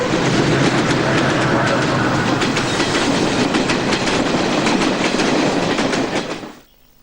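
A train rolls past on a railway track, loud and close, with a continuous roar and a rapid rhythmic clatter of wheels that drops away abruptly near the end.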